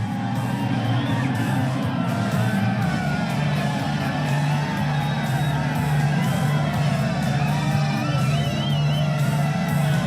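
A crowd cheering at the São Silvestre 2019 race finish line, a continuous roar of many voices with whoops and shouts blended into a steady, loud wash.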